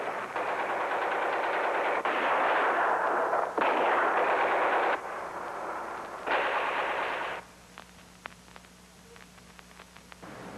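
Dense, rapid gunfire from handguns fired inside a room rolls on in loud sustained bursts for about seven seconds, then breaks off into scattered faint clicks and pops over a low steady hum.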